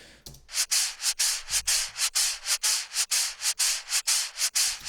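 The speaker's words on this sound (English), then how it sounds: "Just a bit of noise going with the rhythm, with the same rhythm." Bursts of hissing noise pulse in a steady rhythm with a bass house drop, each swelling and cutting off sharply, repeating about three times a second.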